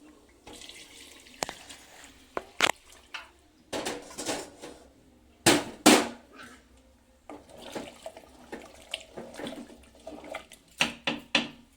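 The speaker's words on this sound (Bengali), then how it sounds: "এবার আমি দেবো এতে গরম জল।" Hot water poured into a pot of country chicken curry, heard as splashing and gurgling bursts mixed with clinks of a pot and utensils, close and uneven across the stretch.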